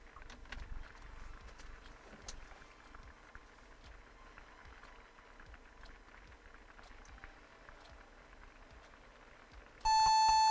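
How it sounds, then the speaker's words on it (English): A steady electronic beep tone from a Compaq Presario F500 laptop starts near the end, loud and continuous, after a stretch of low background rumble and scattered clicks. "No, it's still beeping."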